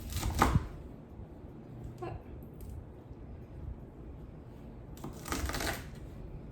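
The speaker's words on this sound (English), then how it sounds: "I'm just gonna trim the end that has the stem on it off." Fresh garden green beans having their stem ends trimmed off, heard as a few sharp, close snips and crisp snaps at the start and end, separated by quiet background.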